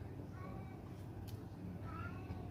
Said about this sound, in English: And now the cat is crying